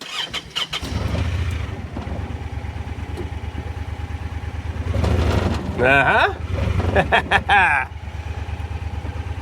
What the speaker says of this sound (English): I'll start it with my foot on the brake and see if it'll actually do reverse